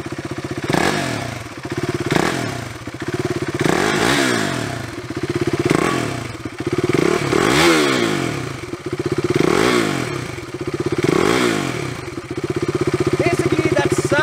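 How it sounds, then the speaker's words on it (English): A KTM Duke 390 single-cylinder motorcycle revs close by in repeated blips, each climbing and falling back to a clattery idle, about eight rises in all, loud throughout with no one talking. "Now let us go and crank the Duke up so that we get the immediate impression."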